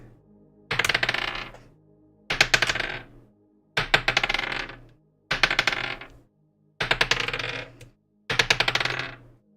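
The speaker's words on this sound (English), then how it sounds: "hearing all those dice rolls make me sad that I couldn't get my dice today" Dice rolled onto a tabletop during a tabletop role-playing game session, six separate clattering rolls spaced about every one and a half seconds, each a sharp burst of tumbling clicks that rattles briefly and settles, close and clear with no talk.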